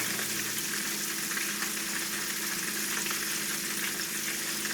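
Milanesa cutlets lifted from a pot of hot frying oil, a steady, loud sizzle and crackle of bubbling oil holding constant throughout with no pauses and no voices.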